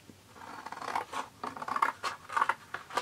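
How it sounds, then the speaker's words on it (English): Scissors cutting a used Christmas card in half, a close series of crisp snipping crunches in an uneven rhythm, with no one speaking. "So the first thing is I'm going to cut the card in half."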